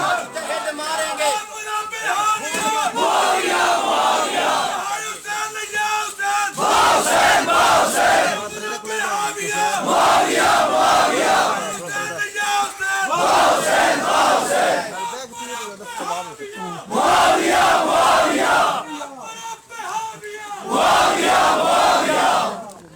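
A crowd at a Mehfil e Hamd o Naat gathering in Rajan Pur Kala chants religious slogans in loud, repeated surges with brief pauses between them, one voice over the crowd's chorus.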